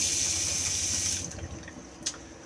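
Tap water running into the washroom basin of an Elddis Majestic 194 caravan, a steady hiss that fades after about a second, leaving faint trickling and a small drip.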